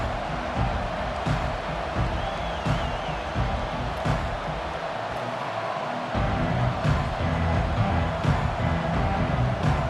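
A large college football stadium crowd at Clemson vs Oregon roars continuously in a big open space, a dense wash of voices and cheering that swells slightly near the end.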